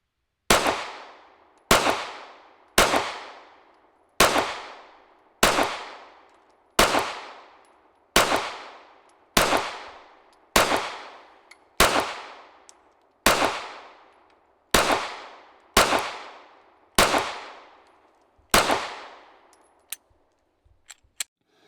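Pistol shots from a Springfield Hellcat Pro fired during a recoil test, fifteen sharp loud reports at a steady pace of roughly one every 1.3 seconds, each ringing off briefly, with faint clicks at the end.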